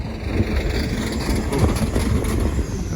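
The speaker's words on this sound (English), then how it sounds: "That Volvo sounds a little rough" An old Volvo truck's engine idles roughly nearby, a continuous low, uneven rumble with small surges, heard alone at an outdoor auction.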